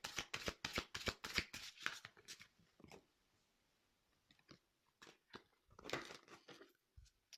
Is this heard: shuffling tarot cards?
yes